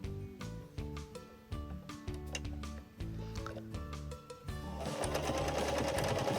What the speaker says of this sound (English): do a line of stitching down the centre of the pocket that you've created